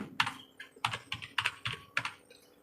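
Keys on a computer keyboard clatter in quick uneven bursts, close and fairly quiet, a few distinct taps and clusters over under three seconds with no voice.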